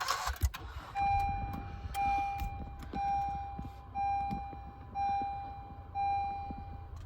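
A 2013 Honda Accord EX starts with a brief crank, then settles into a quiet idle while a steady chime beeps about once per second, close and with no talk.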